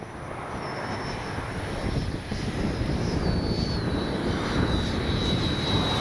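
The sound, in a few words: Freewing 80mm L-39 RC jet flying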